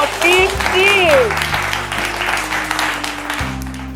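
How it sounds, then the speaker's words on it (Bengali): Applause breaks out for contestants at a jewellery store event in Rampurhat. It is a burst of clapping that follows a brief raised voice and carries on fairly loud to the end. "আর জোরে হাততালি হয়ে যাক ওনাদের জন্য"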